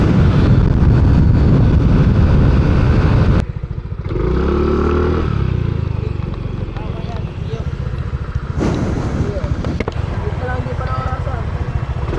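A Honda Click 125cc scooter engine drones loudly while riding, a close, steady rumble with wind buffeting and a brief rise in pitch as it accelerates, with a rider talking over it.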